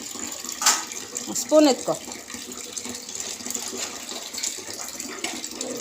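A kitchen tap runs steadily while a child washes vessels and spoons at a sink, a soft continuous hiss of water with an adult voice giving instructions over it.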